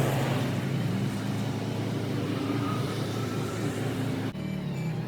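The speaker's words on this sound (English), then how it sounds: "a recent purchase that I made on a larger forklift, a Hyster, and we'll show it in action as we go" A larger Hyster forklift runs with a steady, loud engine drone and low rumble throughout, a brief dip near the end before the engine note continues.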